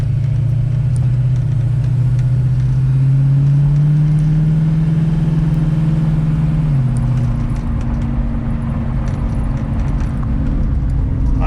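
A 1967 Mustang V8 rumbles low and steady while driving, pitch rising briefly under acceleration before settling into an even cruising drone, with faint rattles in the cabin.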